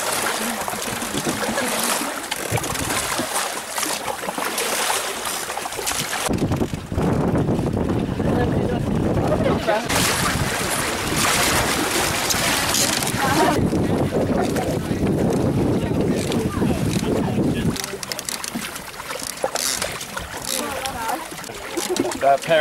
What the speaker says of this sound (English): We've got a bit of a headwind coming towards us.